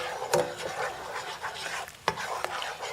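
Minced garlic and a seasoning mix being stirred together into melted butter for New Orleans BBQ shrimp, a steady scraping stir with light sizzle and a few sharp utensil clicks against the pan, close and fairly quiet.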